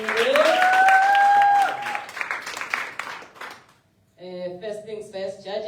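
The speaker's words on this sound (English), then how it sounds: "Another round of applause for our top" A crowd at a live Boardroom Slammers event applauds its top five with loud, dense clapping and a raised voice over it for about four seconds. The applause fades to near silence before a steady harmonic tone takes over.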